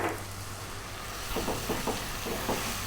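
Coriander, chili and turmeric being stirred into a sizzling chicken curry masala, a steady fry hiss with a few short scraping stirs toward the end, close and alone.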